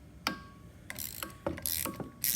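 A ratchet wrench reinstalls 2-inch bolts on a GE wind turbine pitch motor, giving several separate bursts of quick metallic clicking spaced irregularly, close and clear against a quiet background.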